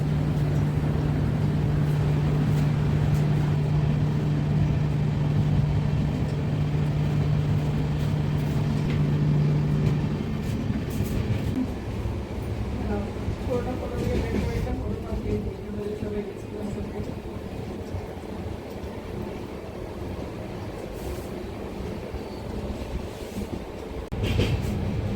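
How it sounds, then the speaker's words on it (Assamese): A passenger train on the Guwahati to Badarpur line runs through a long tunnel near Haflong, giving a continuous heavy rumble with a faint steady hum early on, gradually easing and dulling as it rolls on. "এতিয়া এটা টাৰ্নেলত সোমাইছে ট্ৰেইন, বহুত লম্বা টাৰ্নেল আছিলে।"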